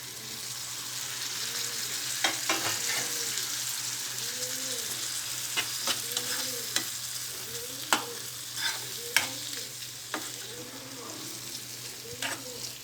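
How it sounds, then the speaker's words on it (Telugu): Tomato pieces frying in a pan on top of ginger garlic paste, with a continuous, even sizzle, occasional clicks of a spatula and a low steady hum in the background. "అల్లం వెల్లుల్లి పేస్ట్ వేసిన తర్వాత టమాటో ముక్కలు వేసుకోవాలి"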